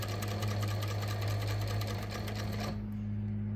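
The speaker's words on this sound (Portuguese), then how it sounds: "costura até segurar a etiqueta" A sewing machine stitching a label onto panties, running with a fast steady mechanical whir and hum, close and continuous, then stopping near the end.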